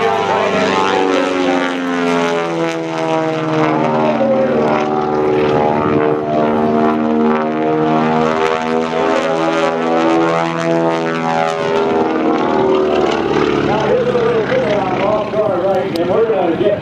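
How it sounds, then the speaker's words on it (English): A twin-engine Beech 18 flies low over the trees at an airshow, its radial propeller drone loud and steady and shifting in pitch as it passes, with a commentator's voice over it. "he'll bring the nose up on the big airplane"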